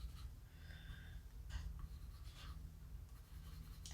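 A colored pencil burnishes a coloring book page in soft, close, continuous rubbing strokes, faint and alone in a quiet room.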